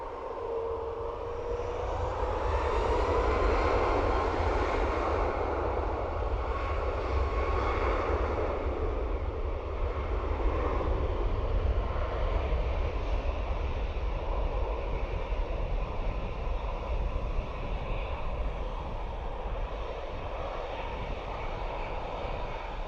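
A Finnair jet takes off from Dublin Airport at full power, rolling down nearly the entire runway. Its engine roar holds loud and steady throughout, with a broad, rushing rumble and a faint whine sitting above it.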